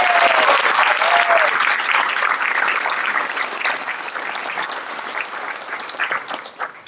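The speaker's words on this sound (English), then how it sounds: "let's give a round of applause for both the organizers and our performers" An audience at a literary reading during the AWP 2023 conference applauds in a dense clatter of many hands that slowly thins and fades.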